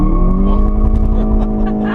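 A 2015 Volkswagen Golf GTI Mark VII under launch control accelerates with wheel spin, its engine note rising steadily and loud from inside the car with faint tire noise.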